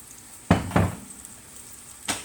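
White wine splashes into a hot pan for shrimp scampi, giving two quick close hissing sizzles in succession, then quiet, then one more short sizzle burst.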